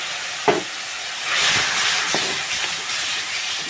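Water poured into hot spices and red chilli powder frying in a pan for a fish curry with drumsticks sets off a loud, steady sizzling hiss that swells briefly, with a short clatter near the start.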